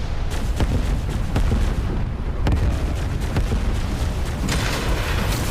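Dense, rumbling bursts of gunfire and explosions from a flight combat video game, G-Rebels, played with a Thrustmaster T-Flight Hotas X in VR, pounding loudly and continuously with sharp cracks punctuating the roar.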